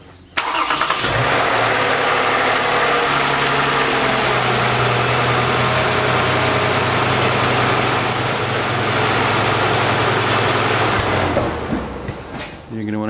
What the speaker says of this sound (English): Then start the vehicle up.